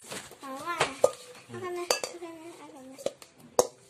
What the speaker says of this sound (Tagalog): Imamash lang po natin siya.